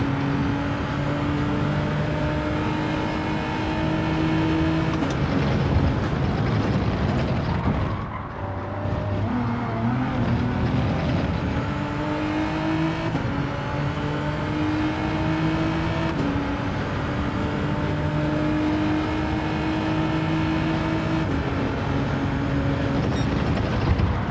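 A racing car engine in the game Gran Turismo 7 drones steadily at high revs, its pitch rising through gears with a brief dip and lift midway, heard alone and close throughout.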